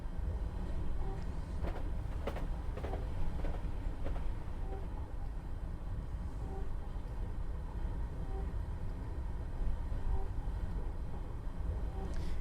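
A train in Train Simulator 2022 on the East Coast Main Line between London and Peterborough coasts with the power off, a steady low rumble of wheels and running gear with faint periodic clicks over the track, with no talking.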